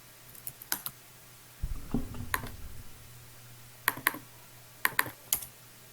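Scattered bursts of typing on a computer keyboard during an online meeting, clusters of sharp clicks separated by pauses, with a brief low rumble partway through.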